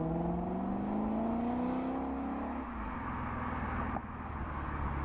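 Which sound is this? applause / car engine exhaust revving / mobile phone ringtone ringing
car engine exhaust revving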